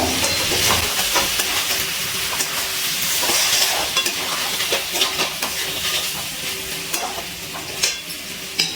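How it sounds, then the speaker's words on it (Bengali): Mixed vegetables stirred in a pan over low flame, a loud close sizzle with frequent scraping strokes of the spatula sounding throughout. "এবার একটু নাড়াচাড়া করে নেব"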